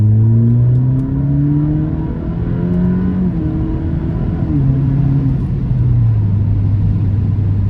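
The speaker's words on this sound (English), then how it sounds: "I'm gonna pop it into manual, do a few downshifts here" A cold Alfa Romeo Giulia engine revs loud and close as it is put through manual downshifts, its pitch climbing and dropping in steps as it rumbles steadily, no voices heard.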